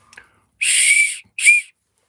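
A large carved wooden woodspirit whistle is blown close by in two shrill, breathy blasts, a longer tone followed by a short one.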